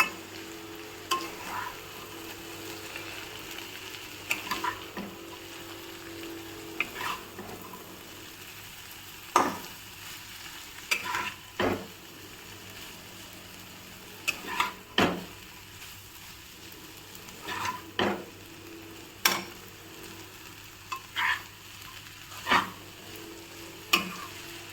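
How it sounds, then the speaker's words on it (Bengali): Chow mein fries quietly in a pan, a faint low sizzle broken by repeated sharp scrapes and clacks of a utensil stirring and tossing the noodles at an irregular pace. "এই যে চাউমিনটাকে দিয়ে দিলাম। এবার এটাকে ভালো করে নাড়ানো যাক।"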